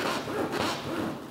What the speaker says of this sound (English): I forced the zipper